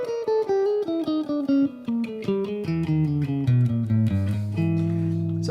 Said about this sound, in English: Another really useful scale is the bebop dominant scale.